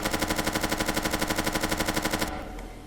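A Mac 11 submachine gun fires in the Due Process tactical shooter, a rapid, evenly spaced burst of about two dozen shots that stops abruptly, leaving a brief fading tail.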